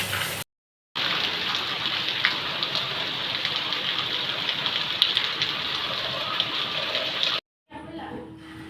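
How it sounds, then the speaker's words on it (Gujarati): Heavy monsoon rain pours down steadily in a dense, hissing roar close by in Morbi, Gujarat, with short gaps in the sound near the start and end. "વરસાદ જોરદાર ધબાધબી બોલાવે છે"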